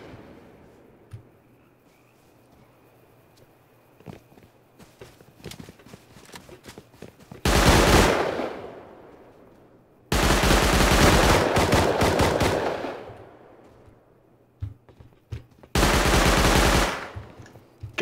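Pistol gunfire in the video game Rust during an arena round: three loud bursts of rapid shots separated by quieter stretches of footsteps and faint movement, with no talk.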